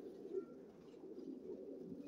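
Racing pigeons cooing softly in the distance, a faint low murmur with a brief higher chirp near the start, over quiet outdoor background.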